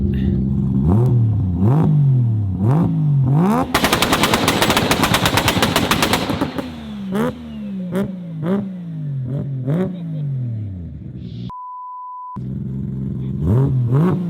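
A turbocharged three-rotor Mazda RX-7 rotary engine idles with a choppy, warbling lope, then a long burst of rapid popping bangs from a two-step, followed by more rough idling.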